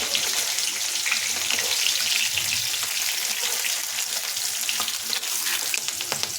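Pabda fish frying in oil in an aluminium wok, a steady dense sizzle with crackling pops running throughout, close and fairly loud, with no talking.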